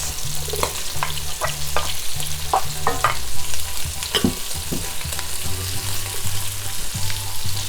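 Onion frying in a pan with a steady sizzle, broken by repeated rhythmic scrapes and knocks of a spoon stirring it, close and fairly loud, no voices.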